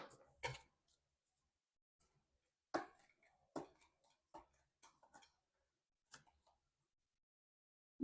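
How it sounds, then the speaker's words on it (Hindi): Tarot cards shuffled by hand in a quiet room: soft, scattered flicks and riffling taps in short irregular bursts, faint and close with silence between. "कार्ड्स को शफल करना"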